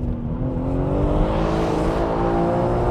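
A BMW M3 Touring corners in second gear with traction control engaged, its engine note a loud, steady in-cabin drone with a rising harmonic whine as revs climb, heard from inside the car without talk.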